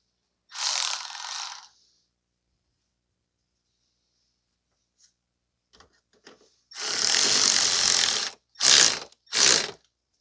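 A ratchet tightens the battery holder on a 2010 Toyota Corolla 1.8, close and crisp, with one short burst of clicking, a pause with faint taps, then a longer burst and two quick final bursts.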